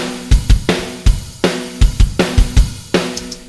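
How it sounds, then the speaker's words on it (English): A recorded drum beat plays alone, with punchy kick and snare hits falling in a steady groove, loud and close. "I usually start with a drum track"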